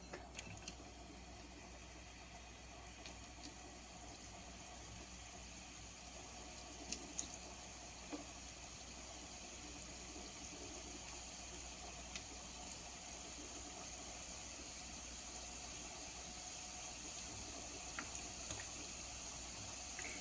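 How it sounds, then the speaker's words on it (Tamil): Sweet wheat-flour seedai dough fries in hot oil as a faint, even, bubbling hiss that runs steadily throughout, with only a few small pops. "எண்ணெய் காஞ்சிடுச்சு போடலாம்"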